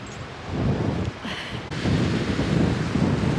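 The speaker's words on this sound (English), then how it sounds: "It's a windy one today." Strong seaside wind buffets the microphone in loud, uneven low rumbling gusts, with a brief lull midway before the roar returns, no voices.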